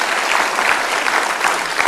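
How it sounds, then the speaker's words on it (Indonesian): A political debate audience claps for a speaker introduced as Bang Ara, a loud, dense burst of applause from a live studio crowd, even and sustained across the short stretch with no talk over it. "Kita beri tepuk tangan Bang Ara."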